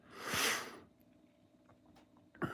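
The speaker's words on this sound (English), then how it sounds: "You have to excuse my sniffles." A long, breathy sniff draws in near the listener, followed by quiet small noises and a second quick sniff at the end.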